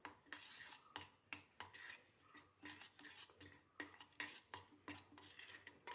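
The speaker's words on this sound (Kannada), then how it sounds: "ಎಲ್ಲವನ್ನು ಮಿಕ್ಸ್ ಮಾಡಿಕೊಳ್ಳುವ." Spoon stirring spice masala mix in a metal bowl for brinjal fry, with repeated scraping and clinking strokes at close range, steady and rhythmic throughout, no talking.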